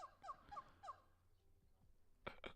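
Jungle animal calls from a sound effects board play in a burst of quick, wavering hooting whoops, followed by a pause and two sharp loud cries at the end, with no talking.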